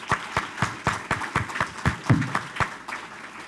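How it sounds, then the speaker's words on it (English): Applause from an audience at a city's state-of-the-city address, a steady patter of many hands clapping with rhythmic peaks, moderately loud and without talk. "Let's give them a round of applause."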